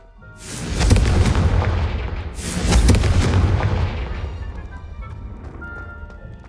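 Two Confringo fire spell explosions in Hogwarts Legacy, each a heavy booming blast with a long rumbling decay, the second following about two seconds after the first, loud and close.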